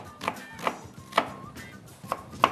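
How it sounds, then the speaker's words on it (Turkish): A knife chops through onion on a cutting board, five sharp, irregular taps spaced apart over quiet background, close by. "Şöyle soğanımızı ufak ufak doğrayalım."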